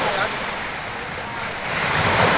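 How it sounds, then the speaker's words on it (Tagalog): Strong ocean waves at high tide wash continuously onto a beach in Zambales, a steady broad roar of surf with some wind noise on the microphone. "Kasi high tide po ngayon eh, kaya malakas ang alon."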